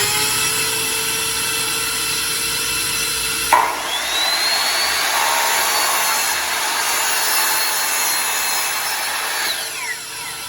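Power saw cutting wood at a 30-degree angle, a steady high whine through the board that shifts abruptly a few seconds in and then runs on alone, loud and close.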